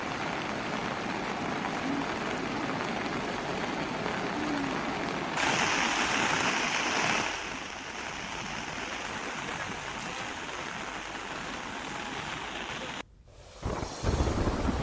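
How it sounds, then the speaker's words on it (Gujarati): The flooded Mohan or Vira river at Umarpada, Surat, overflows both banks after a heavy downpour, making a close, steady broadband roar of rushing water that swells briefly in the middle and cuts out for a moment near the end. "નદી બંને કાંઠે વહી રહી છે।"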